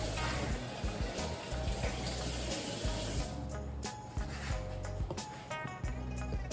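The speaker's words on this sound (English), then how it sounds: "So currently I'm just washing the container out." A water tap runs steadily as a container is rinsed out, a continuous close splashing rush with small knocks and clatters of the container throughout.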